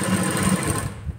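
A sewing machine stitches blouse pieces with a fast, even, close whirring clatter that runs almost the whole time before slowing and stopping at the end.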